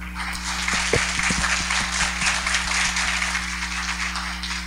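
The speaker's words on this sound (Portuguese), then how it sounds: "Além da salva de palmas, nossos agradecimentos" Audience applause at an academic talk on the history of mathematics and mathematics education, a dense, continuous patter of clapping from a crowd over a steady electrical hum, with no voices.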